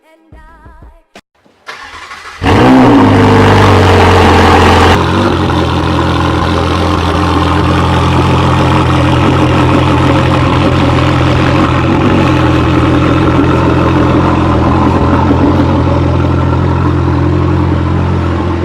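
A 2017 Mercedes SL63 AMG engine cranks and fires loudly after a brief quiet moment, then settles into a steady, deep idle that carries on close up for the rest of the clip.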